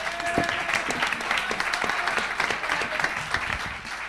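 Applause from a convention audience at the 2015 Xbox FanFest community panel, a steady dense clapping that holds loud for about four seconds with a few sharper individual claps standing out.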